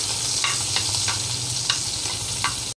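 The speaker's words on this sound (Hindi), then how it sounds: "आप नीचे फ्लेम सिम पे रखिएगा, हरी मिर्च, ऐसे सॉटे कर लेती हूँ।" Green chillies sauté in a pan over a low flame, giving a soft steady sizzle with a few light clinking stirs, no voices.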